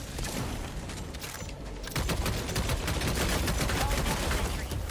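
Sustained automatic gunfire from a weapon in the video game Helldivers 2, a dense rapid burst that grows louder and heavier partway through, with booming impacts layered beneath.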